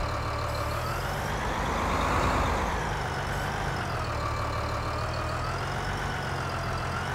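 Large tractor engine running in Farming Simulator 19, a steady low diesel drone with a brief swell in revs, continuous and fairly close with no talking.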